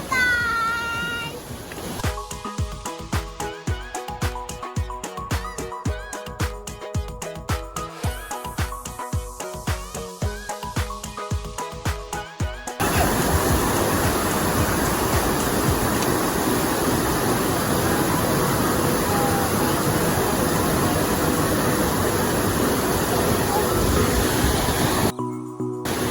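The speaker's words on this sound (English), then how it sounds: "The sound of the water is so soothing." Rushing water at Farin Ruwa, one of Nigeria's highest waterfalls, fills the second half as a loud, steady broadband roar, coming after a stretch of rhythmic, pulsing beats.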